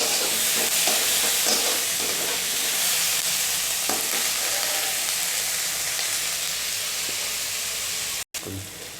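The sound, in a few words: onion frying in tempering for chuda upama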